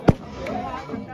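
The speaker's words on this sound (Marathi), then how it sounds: "फटाक्यांची आतषबाजी केली जातोय आपण पाहू शकताय" A firecracker goes off once with a sharp thump near the start at a village cricket premier league celebration, followed by low crowd murmur and talk on the ground.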